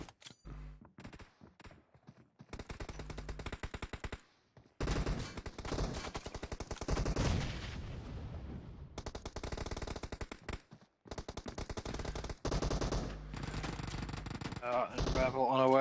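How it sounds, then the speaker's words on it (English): Rapid automatic gunfire from a first-person shooter team deathmatch game plays loud and near in long sustained bursts separated by brief pauses, with commentator voices faintly underneath. "Oh, but they both just got mowed down by Natsus"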